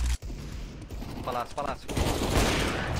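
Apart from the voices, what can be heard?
gunfire in a video game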